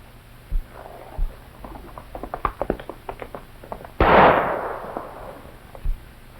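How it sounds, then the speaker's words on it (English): Gunfire in a 1936 Tim McCoy cowboy western: two dull shots, then a quick run of clicks and a loud, ringing report, close and alone without speech. "I'm shooting."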